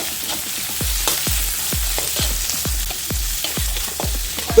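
Sliced big and small onions frying in a pan for a Kerala-spiced tuna fish head curry, a steady hiss with about a dozen regular low scraping thumps of a spoon stirring, close and fairly loud, no talk.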